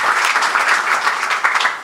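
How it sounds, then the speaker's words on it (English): An audience at a press conference on Old Dominion joining the Sun Belt Conference gives a short round of applause for Commissioner Keith Gill, brisk, loud, even clapping that begins to taper off at the end. "Let's give Keith a round of applause."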